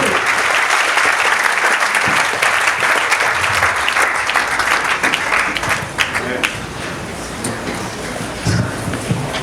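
Continuous applause and cheers fill a Friday church service in Foundiougne, a thick wash of clapping that stays loud, with scattered louder claps and shouts standing out near the end.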